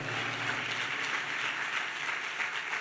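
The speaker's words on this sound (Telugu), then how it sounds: "కొట్టు చప్పట్లు గట్టిగా." A church congregation clapping loudly, a dense, continuous wash of applause heard from some distance with no voices above it.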